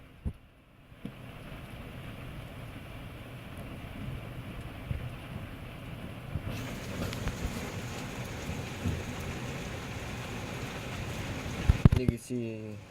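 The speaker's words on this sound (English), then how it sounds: "I guess now I'm just gonna watch it rain." Rain pours steadily outside a scratched, dirty window, heard from indoors as a soft, muffled patter that keeps going. A few bumps and handling noises come near the end.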